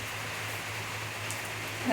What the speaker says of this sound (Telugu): మా సైడ్ అయితే ఇంకా పొద్దు నుండి వర్షం ఉన్నది